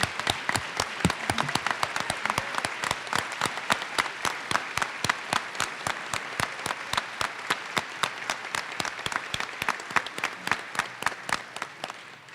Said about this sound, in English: we'd like to give you a giant round of applause for your generous support